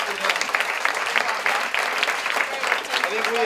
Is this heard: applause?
yes